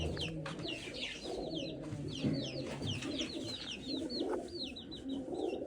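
Chickens cluck and a chick cheeps repeatedly amid busy bird chatter, with cooing pigeons and quail mixed in, close and continuous.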